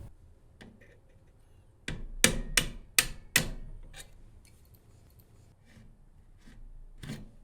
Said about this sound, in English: to remove it, we'll just be using a hammer and a punch.